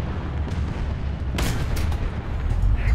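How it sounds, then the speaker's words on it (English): Anti-aircraft fire in War Thunder, a rumbling barrage of booms with a sharper burst of shots midway, loud and close. "There's AA shooting you."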